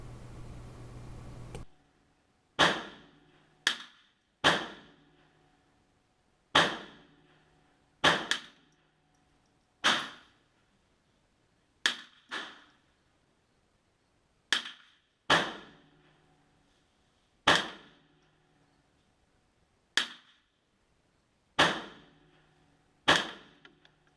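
Sharp .22LR rifle shots from a Ruger 10/22 with a 16.12-inch barrel, fired one at a time at irregular intervals, each a crisp crack with a short decay, about sixteen shots with silence between.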